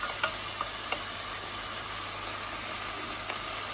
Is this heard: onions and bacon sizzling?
yes